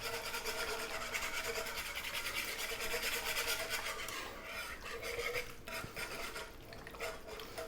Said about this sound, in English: with the whisk, you need to just get any little lumps out of there, as much as you can.